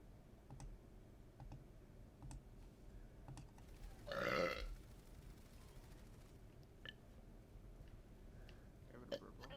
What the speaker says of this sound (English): Having a burp, bro.